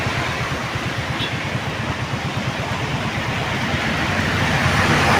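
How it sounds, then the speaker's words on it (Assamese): A motorcycle is ridden along a road between Sonapur and Jagiroad in Assam. Its engine gives a steady, loud, close rumble mixed with wind roar that builds slightly toward the end, with no talking. "মই বাইক চলাই ৰিটাৰ্ণ মানে ঘৰলৈ আহি আছোঁ"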